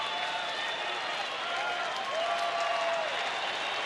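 A baseball stadium crowd of roughly 32,000 gives a standing ovation at a Rangers home game against the Astros, a broad, steady roar of clapping and cheering that holds level and swells slightly near the end.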